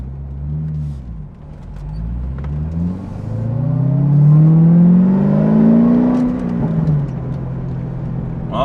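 A Corvette ZR1 with a modified exhaust accelerates gently, its engine note rising from a low burble to a deeper, louder growl, then easing off as the car cruises on.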